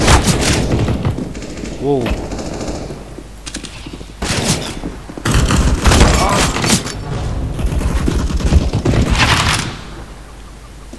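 Rapid bursts of gunfire and sharp shots ring out in a Counter-Strike deathmatch in an Italy map, loud and close with brief pauses between volleys, while someone speaks briefly.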